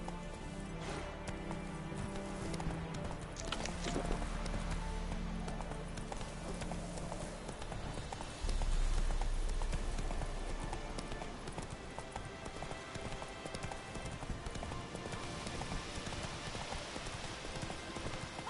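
A horse gallops in The Witcher 3: Wild Hunt, with steady rapid hoofbeats under a dense, continuous game soundscape of wind and ambience that runs for the whole stretch at moderate level.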